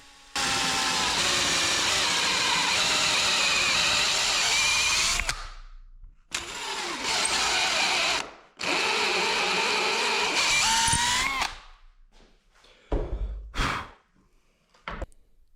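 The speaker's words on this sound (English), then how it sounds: "I put a piece of tape on my drill bit so I know how far to drill" A power drill whirs loudly in long bursts drilling into a pecan wood table, pausing between runs, then ends with short clicks and brief spurts of the motor.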